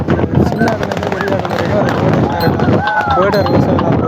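Firecrackers going off in dense, rapid bursts amid a crowded festival gathering, loud and continuous, with many voices of a big crowd talking and shouting throughout.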